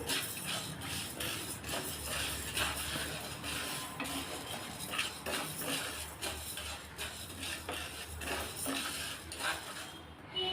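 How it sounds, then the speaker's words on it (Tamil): Urad dal dry-roasted in a pan and stirred continuously, a busy rattle of grains and the spoon scraping metal, steady and close throughout with no voices. "இப்போ இது நல்லா செவக்கிற அளவுக்கு நல்லா வறுத்து எடுத்துக்கலாம் கருகு விட்டுறாமல் நல்லா வறுத்து எடுத்துக்கணும்"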